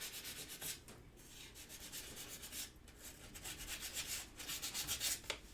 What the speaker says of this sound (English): I'm gonna take out some sandpaper, give it a little bit of sanding.